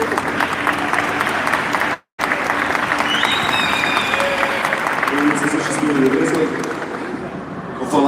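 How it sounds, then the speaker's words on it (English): Loud, sustained crowd applause with cheering and whoops fills a convention stage at CCXP, broken by a brief dropout near the start, then fading slightly toward the end. "Give him a round of applause"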